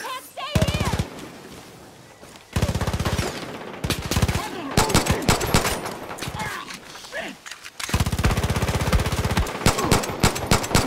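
Rapid gunfire from the video game Far Cry New Dawn comes in several loud automatic bursts separated by short pauses, with someone talking over and between the shots.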